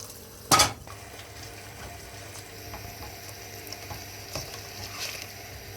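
Shredded chicken masala khichdi mixture is stirred in a pan, a faint soft sizzle with light scraping and one sharp utensil clink near the start, with no one speaking.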